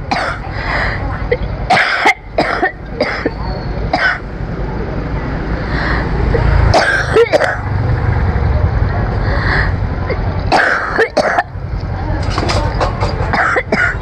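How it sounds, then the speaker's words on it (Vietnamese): Repeated coughing and throat clearing from an ill person, sharp harsh bursts scattered over a steady background hum, with people talking in between. "Ho quá trời cô chú anh chị ạ"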